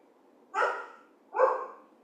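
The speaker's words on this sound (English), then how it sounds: "You're going to hear my dogs barking in the background." Two dog barks, spaced about a second apart, sound from another room of a home, moderately faint over a quiet background hum.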